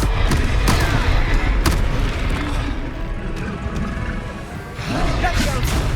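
Confringo spell blasts in Hogwarts Legacy, booming explosive impacts at the start and again near the end, with a rumbling, mechanical game din between and a voice talking over it.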